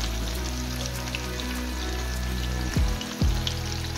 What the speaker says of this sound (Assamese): হাই ফ্লেমত পূৰা ভাজি আছোঁ মাছ